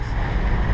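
Squall wind hitting a sailboat at sea, a loud, steady roar of gusting wind buffeting the microphone over rushing waves, continuous and close.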